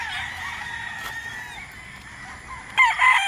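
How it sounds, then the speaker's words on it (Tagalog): Gamefowl roosters at a game farm crow and cluck, a steady bright layer of calls that swells into a louder, closer crow near the end, with no talking. "So ito yung inyong farm tour dito sa Manukan ni Sir JM Fantastic"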